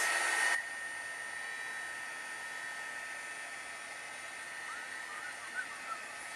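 Steady whooshing hiss of a heat tool drying a handmade botanical envelope card, a constant close blowing tone that starts with a brief louder burst and continues evenly, with no talking.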